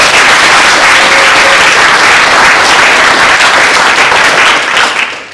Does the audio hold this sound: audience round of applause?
yes